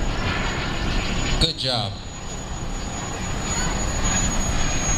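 A radio-controlled model jet flies at a jet rally, its turbine whine and roar steady and fairly loud with a brief shift as it passes, while people talk nearby.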